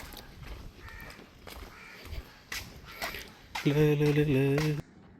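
A crow caws repeatedly and loudly at Sungai Buloh, Singapore, the final call long and harsh, with a few quieter caws and rustles before it.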